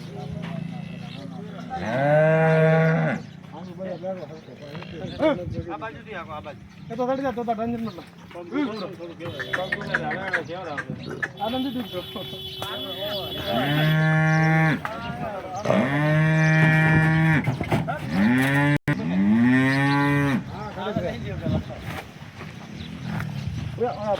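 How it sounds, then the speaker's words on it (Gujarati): Cows mooing loudly and repeatedly, up close, as they are loaded onto a truck in Halenda village, Rajkot district. Long drawn-out calls come one after another, and people talk throughout. "આ 6ઠ્ઠા નંબરની ગાય ચડી છે।"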